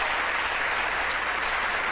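Audience applause fills the chamber during the 2019 State of the Union address, a dense, steady wash of clapping that holds at an even level for the whole stretch, with no voices standing out.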